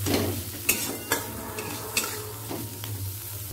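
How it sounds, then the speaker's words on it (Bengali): Bitter gourd fries in a little ghee, a steady soft sizzle under a low hum, with several sharp scrapes and clinks of a spatula stirring against the pan at irregular intervals. "আমি সামান্য ঘি দিয়ে উচ্ছেটাকে ভেজে নেব।"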